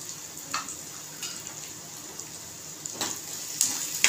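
Onion sizzling in a pan with green chili and homemade masala while cooking Maharashtrian pithla, a soft steady frying hiss with occasional louder crackles.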